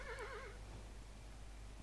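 A horse neighs in the Kingdom New Lands video game, a loud wavering whinny in the first half second that fades into a steady low background hum.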